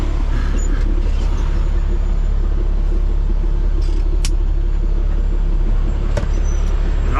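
A delivery truck on a chicken farm run is put in gear and pulls away, its engine giving a loud, continuous low rumble close by with faint clunks over it, no one speaking.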